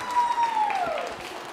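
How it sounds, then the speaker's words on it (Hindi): A brief burst of audience applause at a quiz show during a girls' college anniversary event in Jaipur, with dense clapping in a hall and a thin whistling tone sliding down over it. "तालियां बजाइए जोरों से आपके लिए"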